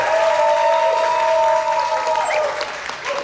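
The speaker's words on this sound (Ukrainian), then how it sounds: "Ваші оплески" Steady audience applause at a Ukrainian television singing show fills the whole stretch, dense and continuous, with a thin sustained musical tone running underneath that fades toward the end.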